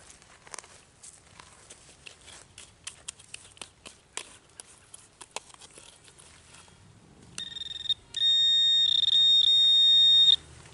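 A metal detector sweeps over a buried target near rusty iron while hunting for old silver coins. Soft clicks and scuffs come first, then a sharp electronic beep that settles into a loud, sustained tone.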